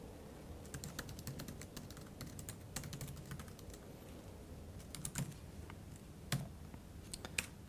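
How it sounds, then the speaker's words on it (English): Someone types on a computer keyboard in quick irregular bursts of close, crisp key clicks with brief pauses and a few louder taps, quiet and without talking. "I'm going to type a thank you page."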